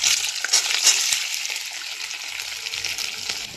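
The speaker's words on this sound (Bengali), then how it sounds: "এবার আমি পনিরগুলো ভেজে নেব।" Paneer pieces frying in hot oil, a bright, crackling sizzle with scattered pops and spatters, loudest at the start and easing slightly toward the end.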